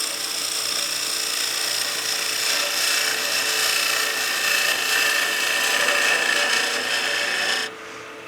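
A wood lathe turns steadily at about 2,000 RPM while a slice cut is made on a German smoker Christmas project, a dense continuous rasping and whirring hum that holds level, then drops away sharply near the end.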